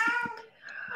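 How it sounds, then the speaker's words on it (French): A panicked cat meows close by, a short strained cry with a brief pause before a second wavering call, heard alone. "je suis désolée pour mon chat, elle est un peu en panique"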